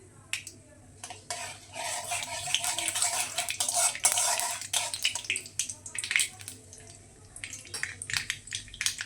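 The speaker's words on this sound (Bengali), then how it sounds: "সর্ষেটা চটপট করছে" Black mustard seeds splutter in hot oil, a dense run of sharp crackling pops that peaks in the middle, thins into scattered snaps, then picks up again near the end.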